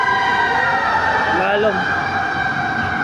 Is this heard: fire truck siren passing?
yes